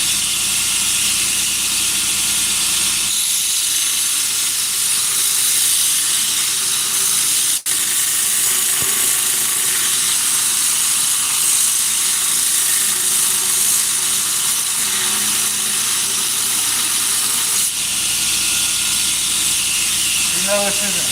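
A steel blade that is not yet heat treated is ground down on a grinder with a loud, steady abrasive hiss that runs without a break, with one brief knock partway through.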